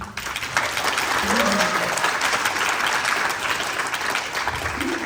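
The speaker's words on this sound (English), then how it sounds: "a round of applause for them" Sustained applause from a crowd at a benefit auction event, steady dense clapping filling the whole stretch, with a brief voice at the start.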